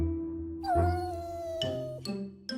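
Pepu, a cartoon cat in a Cinderella story, lets out a long, drawn-out meow followed by two shorter cries, all close and clear with no talking over them.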